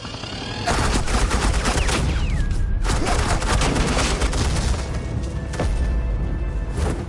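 Sustained, suppressing gunfire in the Batman Telltale video game crackles loudly in overlapping bursts, broken by brief pauses and a whooshing, descending tone.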